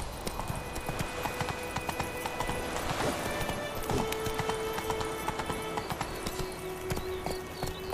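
Roach the horse gallops at speed in The Witcher 3, a steady rhythm of hoof clip-clops with faint ambient game music underneath.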